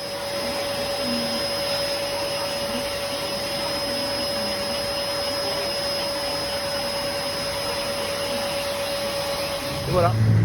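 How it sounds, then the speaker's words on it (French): A vacuum cleaner in a budget Japanese barbershop sucks up cut hair from a customer's head, its steady whining drone running unbroken for about ten seconds, with a brief clatter near the end. "Vous avez vu avec l'aspirateur sur la tête et tout."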